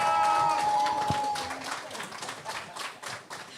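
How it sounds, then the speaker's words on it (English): Audience applause at a launch event, a burst of clapping from a crowd that is loud at first and then tapers off, with voices mixed in. "Can you give them a round of applause?"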